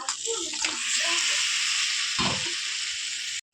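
Chicken frying in spiced masala with tomato sizzles loudly up close, with wet stirring and scraping in the pan, then cuts off abruptly at the end.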